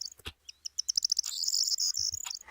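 Birdsong from a played video, a scattered run of quick high chirps building into a rapid trilling warble, with a few soft thumps underneath and no speech.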